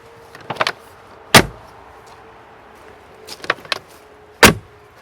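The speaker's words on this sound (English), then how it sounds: "So we need to close all doors" Doors of a 2024 Mercedes-AMG G63 4x4 Squared slam shut one after another, with two heavy, sharp thuds standing out and lighter clicks and rattles between them, close by with no talking.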